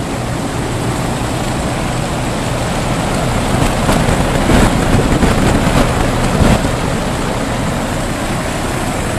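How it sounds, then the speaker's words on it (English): A MAXESS 48-inch portable fan with a slightly bent frame and crooked axle runs with a loud, steady broadband whoosh and rumble, with some faint rattling ticks partway through. "Here we have the MAXESS 48 inch portable fan."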